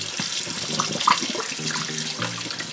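Tap water runs steadily into a sink for washing a 12.5-pound turkey with white vinegar, a continuous close splashing stream with a few brief clinks.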